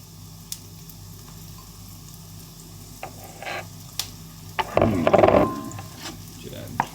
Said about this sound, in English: I'm gonna throw my onions in. You hear a bit of a sizzle, even though it's an induction stove.